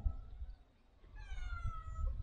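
Newborn kittens hidden inside a cardboard box let out faint, thin, high-pitched meows in a short burst, over low background rumble.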